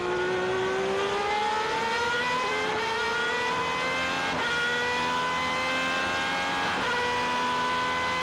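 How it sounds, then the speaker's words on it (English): A 2008 Superleague Formula race car at the Nürburgring screams loudly as its engine climbs through the revs, shifting up through several gears in quick succession, each upshift marked by a brief dip before the pitch rises again. "what a great sound from the engine as he shifts up the gears into the first corner"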